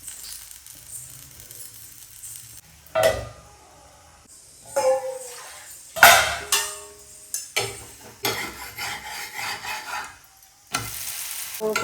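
Jackfruit dosa cooking on a pan with ghee, with quiet stretches broken by bursts of hissing sizzle and scraping spatula strokes, close and uneven.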